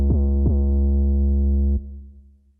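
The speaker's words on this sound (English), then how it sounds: "For example, with this bass pattern, if we just solo this right now." A soloed synth bass pattern from a Synthstrom Deluge: a deep, loud, sustained low tone. Two quick pitch-dropping attacks open it, then it holds steady before cutting and fading out.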